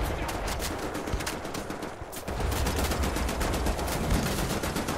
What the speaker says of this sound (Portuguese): Eu tô atirando no nada, né?